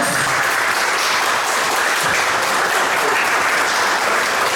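A large audience at an indigenous peoples' citizenship gathering in Paraíba claps steadily and loudly, a dense unbroken wash of hands filling the whole stretch with no voices standing out.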